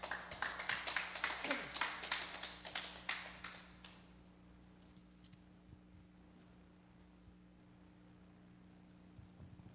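Brief clapping from a small group during a live technical training session, rapid hand claps for about four seconds, then fading into quiet room hum.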